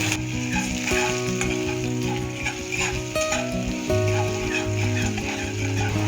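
Chopped ginger and garlic fry with cumin and asafoetida in mustard oil in a kadai, giving a loud, continuous close sizzle over a steady humming tone, with no talking.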